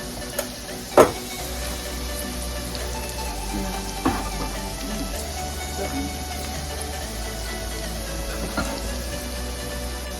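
Diced canned tomatoes cook in a hot pan with a low, steady sizzle, broken by a few sharp clanks of a utensil against the pan, while a voice talks over the cooking.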